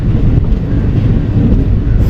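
Amritha Express (train 16343) rolling into a station platform, a steady broad low rumble with wind buffeting, continuous and fairly loud throughout, no voices.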